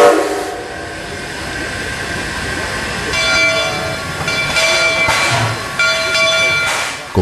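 A train runs along a rural railway in Piñera, Paysandú, with a steady rumble throughout and a loud horn sounding in several blasts during the second half.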